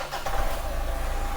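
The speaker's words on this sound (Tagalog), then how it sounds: "I-start ko ang makina nito mga kapatid." A car engine catches on the first crank and settles into a loud, steady running rumble, heard close up with no voices.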